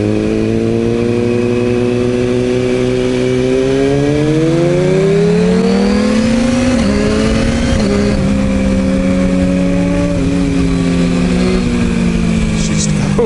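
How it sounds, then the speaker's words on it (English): A motorcycle engine pulls hard close by, its pitch sweeping upward through several gear changes with brief dips between shifts, loud and continuous over steady wind rush. "That bike certainly shifts."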